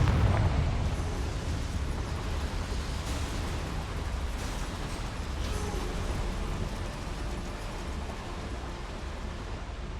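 A Confringo fire spell blasts in Hogwarts Legacy, a dense roaring burst of fiery noise that rumbles on steadily with deep low-end weight throughout.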